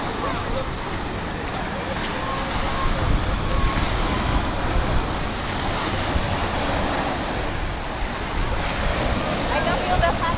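Steady roar of ocean surf at Vancouver, Canada, with gusty wind buffeting the microphone, waves washing in continuously and fairly loud throughout.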